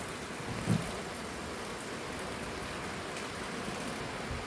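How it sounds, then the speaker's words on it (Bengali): Steady rain falls in a continuous soft hiss, with a faint low thud early on and no voices. "এখন বৃষ্টি একটু কমেছে"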